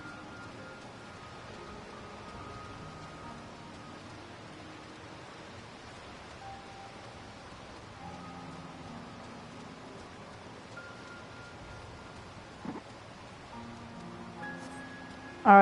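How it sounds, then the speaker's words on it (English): Steady rain falls in Final Fantasy XIV, a soft, even hiss of broadband patter filling the whole stretch at moderate level, with faint game tones and a brief click near the end. "Kind of hard to see in this rain."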